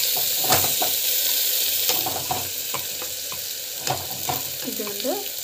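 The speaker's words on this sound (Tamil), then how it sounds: "ஸோ வெங்காயம் போட்டுக்கிட்டு நல்லா வந்து வதக்கும்" Onions sautéing in hot oil in a pan after asafoetida goes in, a steady close sizzle broken by scraping spatula strokes and a few clinks against the pan.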